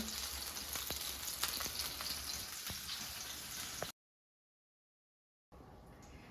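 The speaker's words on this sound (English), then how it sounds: "So now the oil is sizzling, the pan is heated" Steady crackling sizzle of hot oil in a heated frying pan with green tomatoes, loud and continuous, breaking off into silence before resuming more faintly.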